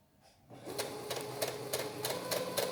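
A sewing machine starts up and stitches a straight line, running with a steady close mechanical whir and a fast even ticking rhythm that continues to the end.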